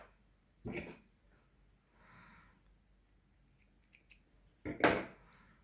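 Scissors snipping crochet yarn while finishing a small crocheted bunny toy: a couple of short, sharp snips close by, separated by quiet handling noise, with no talking.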